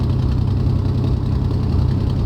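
A Messerschmitt BF-109G piston engine idling in a FlyingIron flight simulator, a steady low throbbing rumble with a fast regular pulse, close and unbroken.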